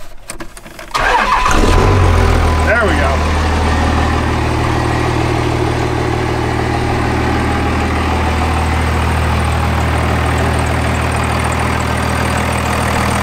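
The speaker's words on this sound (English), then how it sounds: "the truck now starts right up" A truck engine cranks briefly and catches, then settles into a steady, loud low idle rumble that continues alone; a voice speaks briefly near the start.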